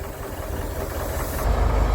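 Diesel engine of a grain loader runs steadily and loudly up close, with a deep low rumble that swells a little as the bucket lifts a load of grain.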